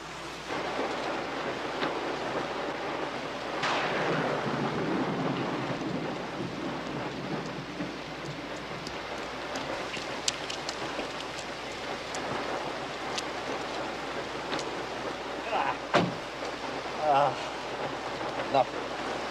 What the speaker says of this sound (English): Sky's dark. It's gonna rain.